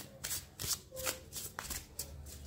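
Tarot cards are shuffled close by in several quick riffling bursts separated by short pauses, soft and crisp in an otherwise quiet room.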